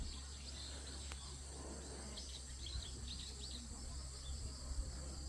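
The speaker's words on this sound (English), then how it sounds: "Lots of birds up to my left." Birds call from trees off to the left in Chuncheon, a scatter of faint, high chirps drifting over a steady background hiss with some insect buzz, no talking.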